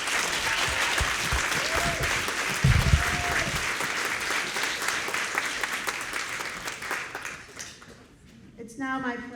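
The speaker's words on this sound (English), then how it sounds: "Can we give them another round of applause?" Sustained audience applause at a campus event, loud, dense clapping with a few cheers and whoops mixed in, fading as the clapping thins out and a voice begins near the end.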